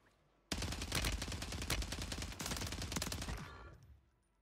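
Rapid automatic gunfire in Call of Duty: Warzone 3 rattles out in a sustained burst of close shots, briefly broken then resuming before fading to quiet, with no talk.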